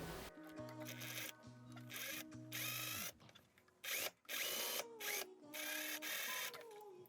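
A sewing machine topstitches fabric on an underdress, running in loud mechanical bursts with short pauses between the runs of stitching.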